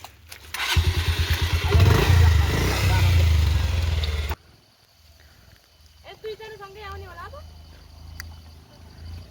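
A motorcycle revs loudly with a throbbing, labouring engine on a slippery red-mud village road in Nepal, then cuts off abruptly, leaving quieter outdoor sounds and a faint voice.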